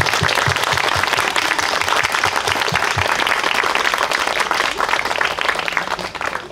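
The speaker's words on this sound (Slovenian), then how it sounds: "Aplavz!" An audience at a literary event marking the 200th anniversary of E. T. A. Hoffmann's death claps steadily, a dense, even round of applause that tapers slightly near the end.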